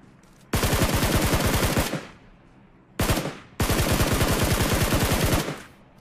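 Two long bursts of rapid automatic gunfire in an online video game, each lasting over a second with a brief pause between, loud and close, with no talking.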